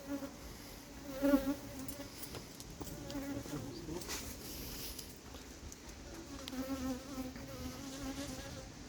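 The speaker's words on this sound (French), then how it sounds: "Je vais pas bouger pour voir si l'abeille qui me tourne autour finit par me piquer." A honeybee buzzes close around a beekeeper at an apiary in Yerres, its drone rising and falling as it circles, louder near the start, over faint outdoor background.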